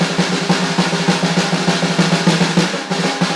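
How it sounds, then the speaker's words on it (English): A wired snare drum plays a fast, steady drum roll of dense, rattling strokes. It is loud and close and continues evenly throughout. "one of my favorite things to do is the drum roll."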